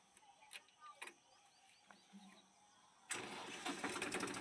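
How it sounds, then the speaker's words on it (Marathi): A tractor engine cranks and catches at about three seconds, then runs loud and steady close by on a farm hauling dung manure for sugarcane, after a few faint clicks and taps. "आता ट्रॅक्टर चालू केला आहे"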